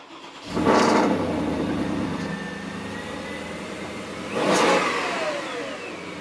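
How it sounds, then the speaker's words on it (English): A Porsche Cayenne GTS 4.8 V8 engine revs hard twice, each burst roaring up then settling back to a steady, fault-free idle rumble, close and loud with no voices. "Fabulous sound to the engine, but needless to say, running flawlessly with no faults or messages."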